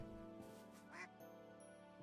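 A few quacks from a duck in the video game Minecraft, soft and distinct over a quiet background tone, heard alone without talk.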